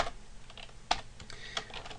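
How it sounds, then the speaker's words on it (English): A few sparse keystrokes as someone types Python code in the Vim editor on a computer keyboard, quiet and close, with sharp individual clicks spaced irregularly against a soft background hiss. "let's start typing our code out"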